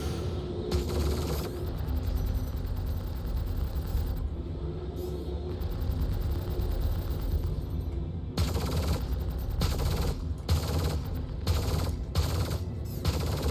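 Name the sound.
gunfire in Star Citizen video game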